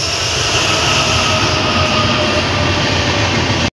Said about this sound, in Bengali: তো আমি ভাবলাম কারণ আজকে রাত্রেবেলায় তোমাদের ট্রেনটাও দেখিয়ে দিই